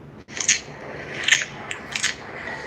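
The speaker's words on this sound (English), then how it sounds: "that's the sound of the puffer fish" Puffer fish sounds: a few sharp, crackly clicks and crunching pops over a faint hissy background, spaced irregularly across a couple of seconds, like underwater grinding or biting.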